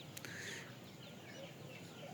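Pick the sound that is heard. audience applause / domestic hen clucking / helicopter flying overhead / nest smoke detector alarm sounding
domestic hen clucking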